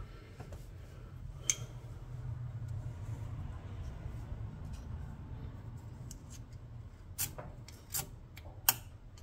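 A flint and steel struck to make sparks: a few sharp, bright scrapes, one early and several close together near the end, standing out above a quiet, low background rumble.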